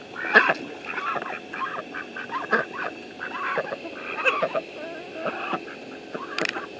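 Ducks quack in short, irregular bursts over a steady outdoor background, with several birds calling near and far and no talking.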